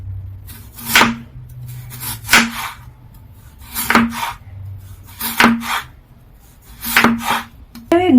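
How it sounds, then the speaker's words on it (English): A knife slices thinly through peeled potatoes on a cutting board, making six evenly spaced crisp chops with a solid thud against the board, close and clear with quiet between strokes. "Just slice them as thin as you can, but not so thin that they're going to break."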